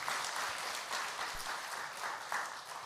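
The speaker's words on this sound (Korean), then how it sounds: "박수 한번 합시다." A church congregation claps steadily through a Korean Sunday worship service, a dense, even wash of many hands with no speech over it.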